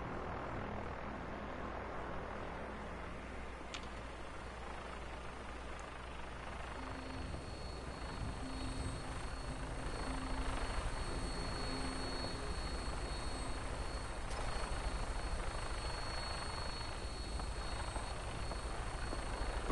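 Steady whirring rotor and engine drone of a Brotherhood of Steel aircraft flying in Fallout 4, a continuous hum that grows slightly louder partway through, with no talking.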